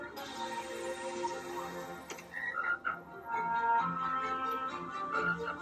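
Frogs croak in a fantasy TV drama scene, a steady chorus of tonal croaks running through most of the stretch, fairly loud and close, with scattered clicks and background music.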